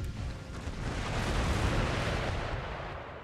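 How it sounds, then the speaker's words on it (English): Howitzer artillery in an Empire: Total War battle rumbles as a continuous, dense roar of blasts, loud and steady, swelling slightly in the middle with no voices. "our howitzers are going to keep doing good work"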